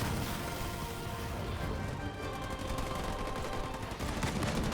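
Sniper fire and battle noise in the real-time strategy game Halo Wars 2, rapid repeated gunshot bursts over a dense, busy mix of combat sounds, continuous and fairly loud.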